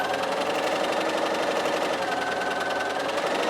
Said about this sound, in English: so right here is a seam, and I just want to make sure that I sew that flat down